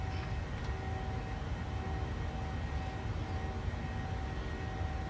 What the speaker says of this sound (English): we have a beautiful morning takeoff